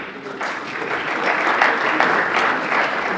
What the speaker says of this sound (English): A round of applause as they are hugging once again.